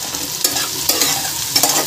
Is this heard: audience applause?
no